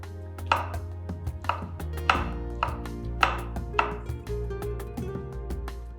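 Knife chops mushrooms on a cutting board in a series of crisp, evenly spaced strikes, close and fairly quiet over a low kitchen hum, with no talk.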